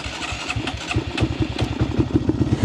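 A Honda Monkey 125cc motorcycle engine cranking and firing, uneven pulses building into a steady close, loud idle with no voices.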